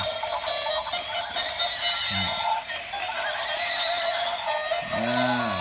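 A battery-powered toy horse plays a bright electronic neigh, repeated whinny-like tones rising and falling over a continuous busy high-pitched mechanical whir, with a rhythmic galloping clatter running steadily throughout, close and fairly loud.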